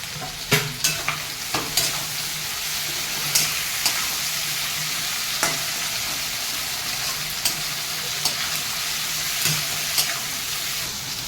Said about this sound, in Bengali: এই টমেটোগুলো দিয়ে দিই